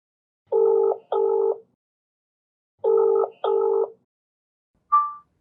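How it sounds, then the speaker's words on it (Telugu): Telephone tones sound in two paired bursts of a steady double tone, separated by silence, followed by a short fading beep. "ఫోన్ కలిపి చెప్తాను, మాట్లాడదాం వాడితో"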